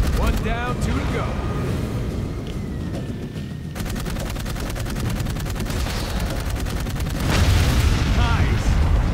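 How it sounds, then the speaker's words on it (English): Rocket launcher blasts and heavy gunfire in the video game Dark Void, a dense, loud barrage of booms and rapid shots running throughout with voices talking over the combat. "And if you upgraded your pack like mine, rocket launchers!"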